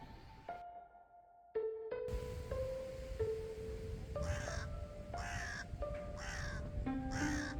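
Repeated harsh crow caws, four loud calls in a steady rhythm near the end, over a sustained tonal hum and background noise.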